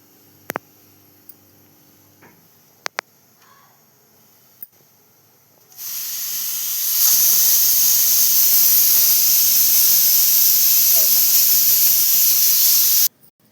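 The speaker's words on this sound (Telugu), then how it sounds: "3 విజిల్స్ వచ్చేంత వరకు కుక్కర్ని అయితే ఏం టచ్ చేయదు." A pressure cooker of dal on the stove releases a loud, steady jet of hissing steam that builds up and runs for about seven seconds before cutting off abruptly, after a few faint clicks.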